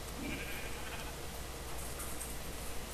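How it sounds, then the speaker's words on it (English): Sheep bleating in the Minecraft game world amid a steady hiss of background noise, with a short bleat near the start and faint calls later, fairly quiet and with no talking. "Can't believe the amount of sheep there's here."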